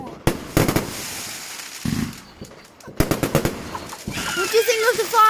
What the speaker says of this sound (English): What do you think of the fireworks?